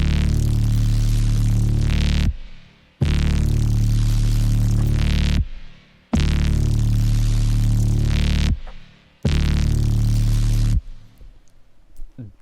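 A designed sound effect routed through reverb rings out as four loud, sustained bursts with deep low throbbing and bright noisy texture, each trailing into a short reverberant tail before a brief gap. No one speaks.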